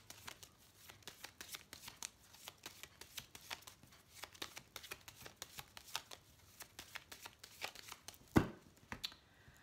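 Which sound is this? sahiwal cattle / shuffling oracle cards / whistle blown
shuffling oracle cards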